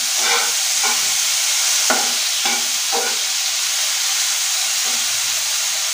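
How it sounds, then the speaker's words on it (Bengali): Chopped tomatoes fry in a pan with a steady sizzle and hiss, broken by several short scraping stirs near the start and one more later; no one speaks. "এবার দেবো টমেটো কুচিগুলো। হালকা নেড়ে চেড়ে নিয়ে ভেজে নেবো।"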